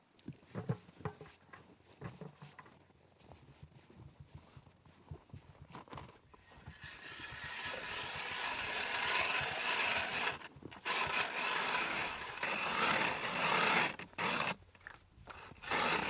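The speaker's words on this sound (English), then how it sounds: "let's try out this little auger and see how it works." A small hand auger with very sharp blades drills into the ice of a small frozen lake, starting with scattered scrapes and then a steady loud grinding, crunching rasp that runs close and continuous, with brief breaks.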